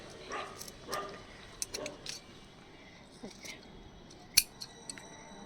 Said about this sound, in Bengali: এই যে মরা মরা ডালগুলো সব কেটে দিচ্ছি